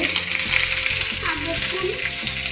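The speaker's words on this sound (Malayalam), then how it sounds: "ഉലുവയും കടുകും, 2-3 ഉലുവയുണ്ട്, കടുകുണ്ട് ഇട്ടു. ഉള്ളിയിട്ടിട്ടു." Onion, fenugreek and mustard seeds fry in a hot pan with a steady, close sizzle and crackle, and the ingredients are stirred and scraped along the way.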